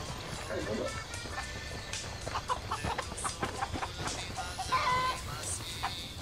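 Chickens cluck in Ghost Recon Wildlands, several short bursts in an open outdoor game world. Ambient game sound and a talking voice run over them.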